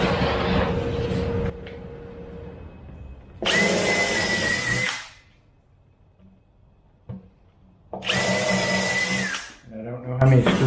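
A power drill pre-drills holes in plywood, running in two loud bursts separated by quiet pauses, with a voice talking over the first stretch and faint clicks between bursts.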